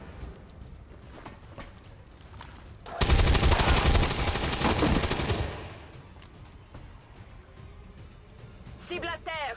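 Gunfire in the tactical video game XCOM 2, a loud sustained burst of rapid shots lasting a few seconds, set among quieter game sounds and light background noise, followed by a short electronic chirp.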